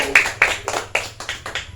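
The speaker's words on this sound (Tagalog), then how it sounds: "Palakpak po sa Panginoon" A small church congregation claps briefly during a Sunday service in a few irregular bursts, sharp and close, no voices.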